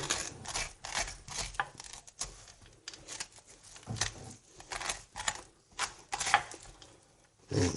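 A metal spoon scrapes the inside of a roasted pumpkin, producing a series of short, uneven scraping strokes close up, fairly quiet, with brief pauses between each pass.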